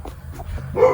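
A guard dog named Bear barks outside, giving a couple of short woofs followed by a louder bark, fairly close and heard over low background rumble.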